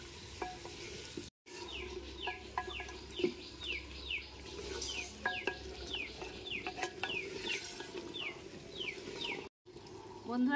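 Potatoes added unfried to chicken cooking in a clay handi pot give a steady close sizzle and frying hiss, with repeated scraping stirs, scattered clinks and faint bird chirps in the background.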